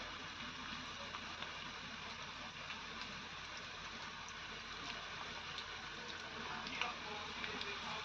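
Pakodi fritters made from gram-flour batter fry in hot oil, giving a steady, soft sizzle and crackle with faint ticking pops that carry evenly through the whole stretch, heard alone without talk.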